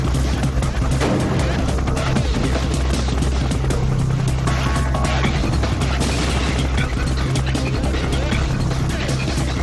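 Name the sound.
military amphibious anti-submarine helicopter during test flight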